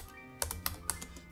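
Typing on a computer keyboard, several crisp close keystrokes in an uneven rhythm, clear and alone over faint room hum.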